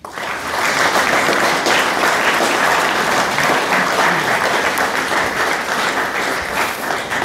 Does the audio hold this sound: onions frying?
no